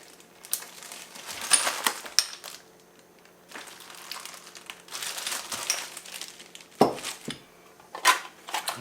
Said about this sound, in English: I just put all this stuff in a Ziploc bag